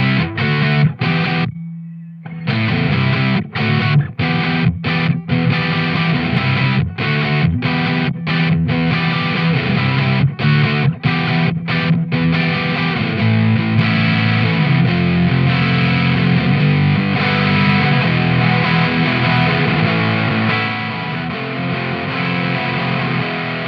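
Electric guitar played through a Mozztronics MD-1 Mew Drive distortion pedal, bass and treble off with mids cranked, giving thick sustained distorted chords and riffs with short rhythmic stops early on, loud and continuous throughout.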